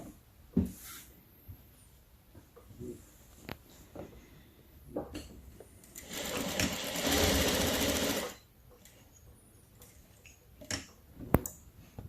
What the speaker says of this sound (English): I'm gonna sew around it with the elastic